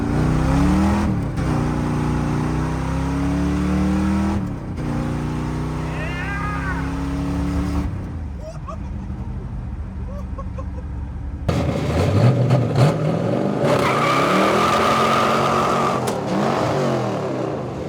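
A Dodge Dart V8 with a four-speed manual pulls hard on nitrous down a drag strip, a loud ripping engine note rising through the gears, dropping off briefly mid-run, then surging back louder.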